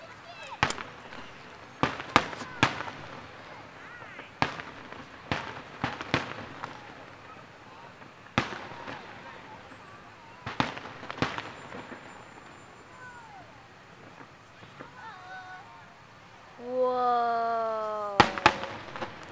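Fourth of July fireworks burst in a series of loud, sharp booms at irregular intervals, some in quick clusters, while people talk and exclaim between the explosions.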